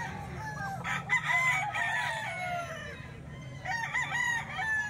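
Several roosters crow in turn at a fighting-cock market in Baliwag, two bright bursts of cock-a-doodle-doo with a low murmur of the crowd and some clucking beneath them.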